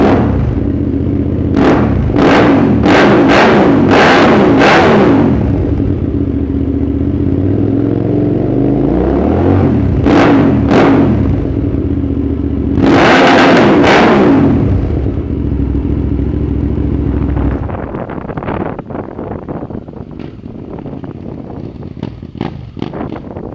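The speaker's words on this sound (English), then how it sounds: "he's put out this challenge to see how loud our bikes are" A motorcycle engine revs hard inside a garage, with a series of sharp throttle blips, a rising sweep and sustained high revs ringing off the walls, then dropping to a rougher, quieter idle.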